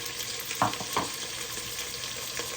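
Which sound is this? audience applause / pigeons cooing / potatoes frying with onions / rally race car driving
potatoes frying with onions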